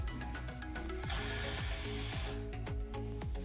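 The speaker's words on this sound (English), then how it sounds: "Then I start to drive my screws into each cleat." A power driver sinks screws into wooden wall cleats while a fireplace media wall is built, giving a steady run of close, loud ratcheting clicks and mechanical whirring for the whole stretch, with no talk.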